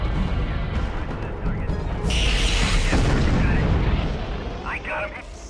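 A heavy, booming explosion as an enemy mech is destroyed in the MechCommander 2 PC game, a loud broadband blast erupting midway over constant rumbling battle noise and lingering into crackling debris.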